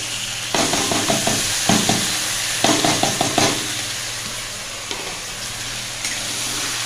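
Mutton and onion sizzle steadily as they fry in a pan, with several bursts of stirring and scraping, close and fairly loud, and no talk.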